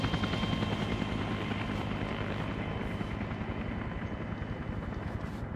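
A helicopter in a video game hostage exchange drones steadily throughout with a continuous rotor chop and engine whine, close and even in loudness, and nobody speaks.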